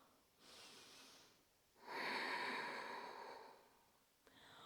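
Slow audible breaths during yoga practice: a soft exhale, a pause, then a longer, louder breath, and the start of another, close and quiet.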